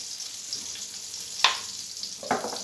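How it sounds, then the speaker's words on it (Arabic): Escalopes frying in butter and oil in a pan give a continuous soft sizzle, with two sharper crackles or utensil taps standing out near the middle and end. "نطيب دوكا لي زيسكالوب، نرمي له شويه زبده"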